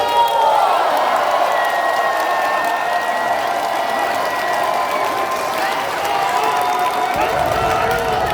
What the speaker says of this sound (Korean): 잘 가라고 우리 전북 동지들 박수 한번 주십시오